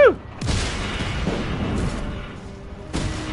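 Explosions in the game Just Cause 3: several sharp booms burst out one after another, each trailing into a low rumble, fairly loud, with no speech over them.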